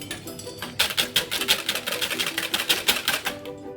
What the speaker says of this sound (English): we're going to give that a whisk up